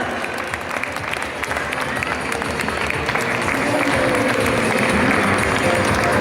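Audience applause at a primary school graduation ceremony honoring a teacher, a continuous crowd of clapping that stays steady and grows slightly fuller, with faint voices underneath.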